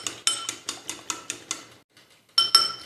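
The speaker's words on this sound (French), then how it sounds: "vous remuez comme ça l'œuf" Utensil tapping and clinking against a dish while an egg is stirred for a cauliflower recipe, seven quick close knocks in an even rhythm, a short pause, then two sharper clinks, with no talking.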